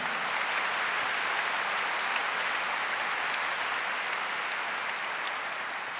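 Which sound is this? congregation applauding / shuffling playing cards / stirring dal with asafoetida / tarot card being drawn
congregation applauding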